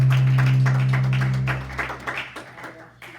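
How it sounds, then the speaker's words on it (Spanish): Church congregation applauding during a sermon, a run of scattered claps over a low sustained hum that thins into uneven, fading claps toward the end. "¿No merece un aplauso grande eso?"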